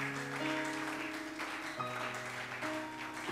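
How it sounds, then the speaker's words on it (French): A church congregation claps steadily and loudly, the dense applause running continuously beneath sustained held musical tones. "Alors on acclame encore très fort le Seigneur."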